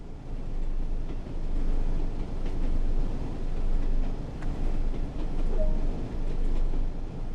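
A train rolls along the North Trans-Pennine route in Train Sim World 2020, a steady loud rumble with faint rhythmic clicks of wheels on track, running without pause and with no voices.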